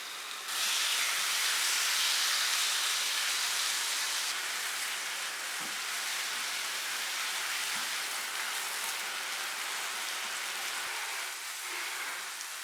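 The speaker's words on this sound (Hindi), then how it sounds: "पैन में ये मैरिनेट की हुई चिकन डालेंगे और इसको कुक करेंगे।" Marinated chicken sizzling in a hot pan on the stove, a loud, steady hiss and crackle that fills the scene throughout, easing slightly partway through but continuing without talk.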